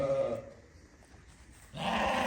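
Afghan lambs around three months old bleat loudly at a farm pen, one call at the start and another after a short quiet pause.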